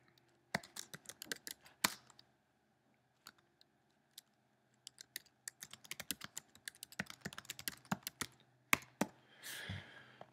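Typing on a computer keyboard, scattered close key clicks in irregular bursts with quiet gaps, closing with a short rustle.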